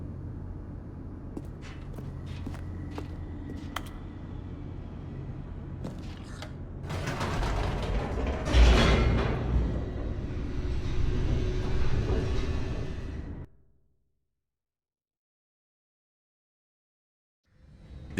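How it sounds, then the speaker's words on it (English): An elevator descending in the video game The Stanley Parable, a low mechanical rumble with creaks and clanks that grows louder and rattles harder midway, then cuts off abruptly into near silence. "The elevator raced downward, plummeting towards an unknown fate."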